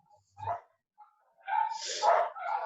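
A pack of dogs barks in short outbursts, a lone yap first and then a louder overlapping cluster of barks, moderately distant and heard alone without talk.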